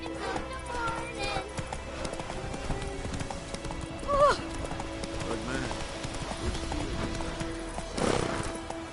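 Roach the horse gallops in The Witcher 3, a fast, even clip-clop of hooves with a short whinny partway through, heard under game dialogue.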